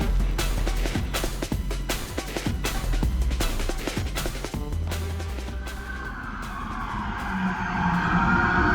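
Cars in a column of vehicles driving along a Miami street at night, with loud engine roar, tire skids and revving passing close by, the traffic sound continuing without talk.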